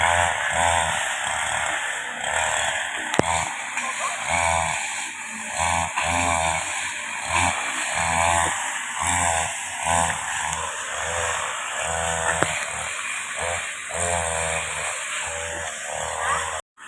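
A motorized grass cutter works through grass on a farm plot near a chicken coop, its engine buzzing loud and close in uneven pulsing bursts that rise and dip as the blade cuts, running steadily throughout.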